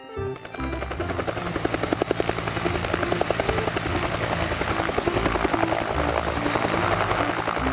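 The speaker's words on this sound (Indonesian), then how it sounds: "Helikopter." A helicopter's rotor thumps steadily and loudly with a whining engine hum, continuous and close throughout, with no talking.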